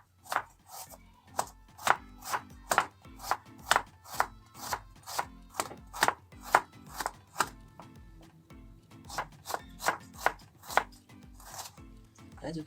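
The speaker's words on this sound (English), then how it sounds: "As you can see, I sliced this onion very finely." A sharp knife slices finely through an onion on a board in an even, rapid series of crisp chops, close and clear, with brief pauses between runs of cuts and no talking.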